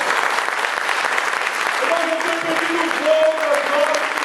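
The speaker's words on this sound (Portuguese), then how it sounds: "E uma salva de palmas para o Senhor" A church audience claps in a steady, dense round of applause lasting several seconds, with a few voices rising faintly over it near the end.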